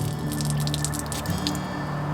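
Water pushed backward through a Sawyer Mini water filter with a syringe, giving a steady close-up hissing, spluttering gush with small dripping splashes throughout.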